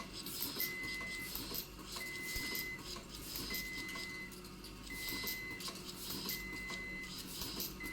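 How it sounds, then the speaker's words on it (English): A handheld automatic screw tightening machine runs steadily, giving faint repeating whirring cycles with tonal whines and light mechanical ticks at a regular rhythm, alone with no talking. "The screw tightening machine runs continuously and stably"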